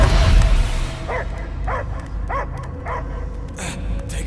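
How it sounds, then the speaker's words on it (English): A dog barks in the Guardians of the Galaxy video game, a series of about six evenly spaced barks over a low rumbling background, fairly close and clear. "I hear only barking."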